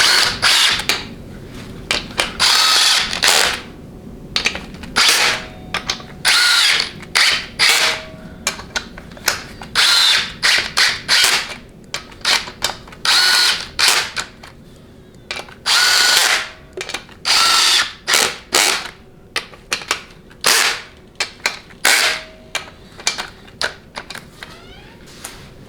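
An impact wrench works on bolts during a 700R4 automatic transmission rebuild, firing repeated loud, close, rapid hammering bursts of a second or two each, separated by short pauses and faint workshop clatter.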